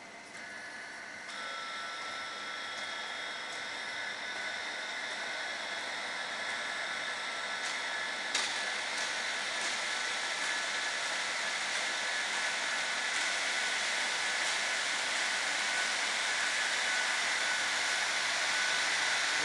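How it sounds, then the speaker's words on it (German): Biesse Techno woodworking machine with all its drives switched on, running as a constant high-pitched whirring hum with tonal whine, steady and close throughout, a faint click partway and no talk. "Lass uns mal die Getriebe alle einschalten."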